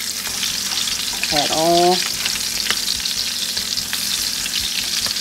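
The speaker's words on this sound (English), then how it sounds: "fry it up in this big large pan and put a little more seasoning on top" Canned meat fries in a large pan with a steady, close sizzle throughout, joined briefly by a short tonal squeak partway through.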